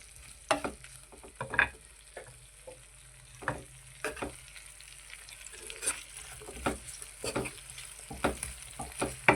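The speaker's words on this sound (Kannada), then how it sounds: "ಟೊಮೆಟೊ ಚೆನ್ನಾಗಿ ಫ್ರೈ ಆಗಬೇಕು" Onions and two tomatoes fry in a pan for capsicum curry, with a spatula stirring them in repeated scraping strokes over a soft, steady sizzle, heard close up with no talking.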